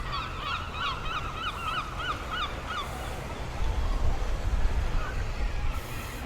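A swan calling by a lake, a series of nasal honking notes in quick clusters at middle distance over outdoor ambience, followed by low rumbling background noise.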